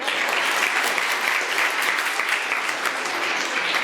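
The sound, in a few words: audience applause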